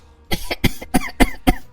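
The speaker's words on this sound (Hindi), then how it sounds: "अरे मुझे तो इतनी ज्यादा खांसी हो रही है," A cartoon character in a village sleeping on rooftops in winter coughs five times, loud and close, in an evenly spaced series of harsh bursts.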